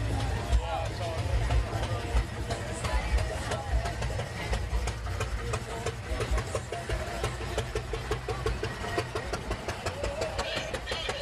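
Flathead-engined classic car running at a pumpkin run car show in Ocala, Florida, a steady mid-pitched engine rumble that continues throughout under near, continuous conversation.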